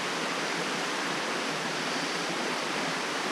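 Steady broadband rush of a stream at a campground water source in South Mountain State Park, North Carolina, a continuous even flow heard alone without voices.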